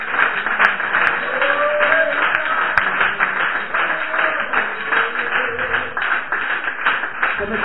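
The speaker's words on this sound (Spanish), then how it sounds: "denle un aplauso al Señor en esta mañana" A church congregation applauds during a Sunday morning service, sustained clapping throughout with a voice carrying over it.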